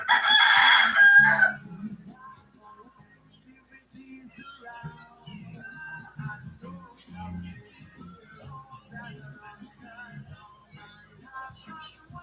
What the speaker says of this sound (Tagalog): Ay nga yung manok eh.